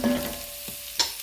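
Fideo noodles browning in a pan, a soft continuous sizzle with a couple of brief scraping stirs, close and quiet.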